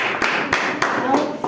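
A small group of children clap their hands in a classroom, giving a few loud, sharp bursts spaced roughly a third of a second apart over steady background noise.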